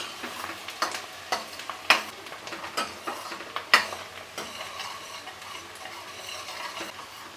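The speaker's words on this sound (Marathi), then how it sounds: "आता यामध्ये आपण कांदा घालूया, थोडीशी कोथिंबीर घालूया, परतून घेऊया आणि छान परतून घ्यायचं आहे आपल्याला।" Onion and coriander sauté in hot oil in a kadhai, a light sizzle punctuated by regular scraping strokes and sharp clinks of a spatula against the pan.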